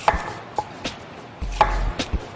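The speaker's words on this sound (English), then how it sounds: "We're just going to get an apple, 1 orange, a couple pineapples, and some strawberries. Just chop it up." A knife chops through apple, orange, pineapple and strawberries on a cutting board in a home kitchen, making a handful of sharp, close knocks at an uneven pace, with a short low thud between them.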